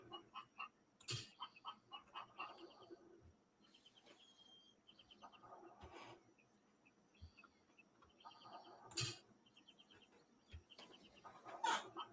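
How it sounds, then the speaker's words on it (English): Chicken clucking in the 9Dragons online game, a string of short, faint clucks and squawks in irregular bursts over a quiet background with soft insect chirps. "The chicken! The chicken must have something important to tell me."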